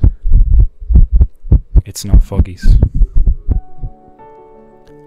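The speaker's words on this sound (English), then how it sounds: "his heartbeat's so loud" Loud, deep heartbeat sound effect in a steady double-thump rhythm, partly overlapped by someone speaking, followed by a sustained low musical drone as the beats fade.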